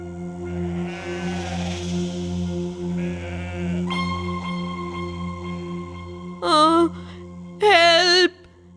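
Sheep bleat twice in short, wavering bursts over a steady background of music, heard near and fairly loud.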